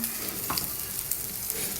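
Kallummakkaya mussels frying in a pan, a steady close sizzle with soft crackles and pops and no talking.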